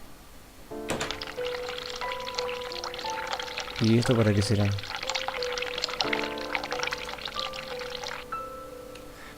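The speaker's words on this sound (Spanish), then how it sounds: "Abrir agua fría, abrir agua caliente, cerrar el grifo. Vamos a abrir agua caliente." Hot water running from a sink tap in the game The Cat Lady, a soft pouring trickle that swells briefly mid-way, under sustained music tones and someone speaking.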